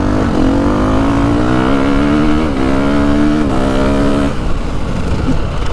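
A Ducati 450 Desmo 450MX motocross bike engine with a quick shifter, loud and close, holding a steady buzzing drone with rising pitch through quick shifts.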